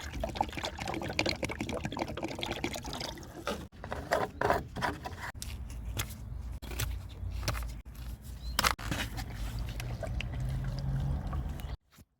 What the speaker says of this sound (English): We're mixing some acid into the water